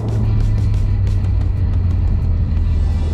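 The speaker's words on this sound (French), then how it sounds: "Et le bruit du moteur qui est vraiment sublime." A Corvette C6 Z06 V8 gives a deep, steady, loud engine rumble from inside the car while driving on the road, with no talking.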